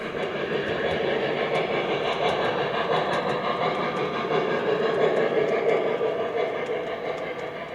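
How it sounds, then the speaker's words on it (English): An O gauge three-rail model train rolls along a layout with a steady close whir and light rhythmic clicking of wheels over track joints, continuous with no talk. "As the train moves west"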